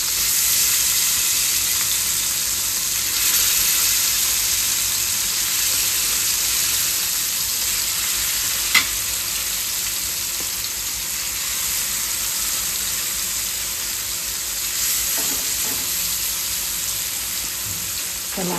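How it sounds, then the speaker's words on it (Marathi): Fish sizzles steadily in hot oil in a pan, a dense continuous frying hiss with a sharp clink partway through and faint stirring movement, no talk over it. "हिला फ्राय करून घेऊ आपण. ही पलटी करू."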